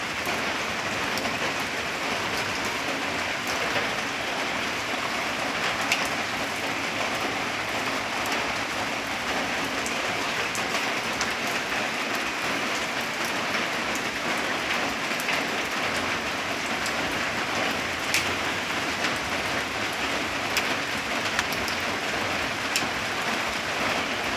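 Light drizzle falls steadily outdoors, a dense, even hiss of rain on surfaces with soft scattered drops, constant and fairly close for the whole stretch with no voices.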